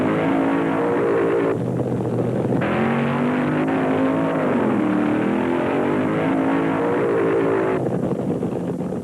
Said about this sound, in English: Richard Tharp fired up Mike Burkhart's Plymouth Satellite first.